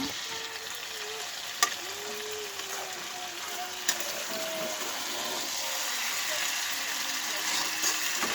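Chicken cooks in a pot beside a pot of rice, giving a steady close sizzle and bubbling with a couple of sharp utensil clicks, while a voice talks over it throughout.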